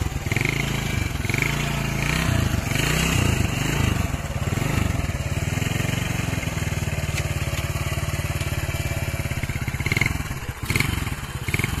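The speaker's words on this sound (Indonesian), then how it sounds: "itu tadi ya bosku untuk kondisi mesinnya masih halus, masih oke. Untuk suara masih khas GL 100." A Honda GL 100 motorcycle with CDI ignition runs steadily at close range, its single-cylinder engine throbbing in a continuous idle that rises into a few revs before settling.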